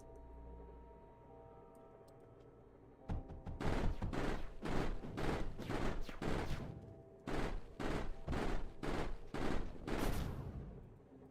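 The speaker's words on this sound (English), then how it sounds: "Build the turret of the salvo variety." Salvo turret in the game Mindustry firing rapid bursts of sharp, loud shots in rhythmic volleys, with brief pauses between groups, following a quiet electronic hum.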